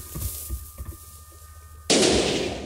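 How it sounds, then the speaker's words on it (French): TNT cannon in the video game Minecraft, version 1.4.7: a few soft thumps and fizzing sounds, then one sudden loud explosion that roars and slowly fades. "ça propulse 2 TNT au même endroit à peu près. Donc voilà, ça fait un assez gros cratère."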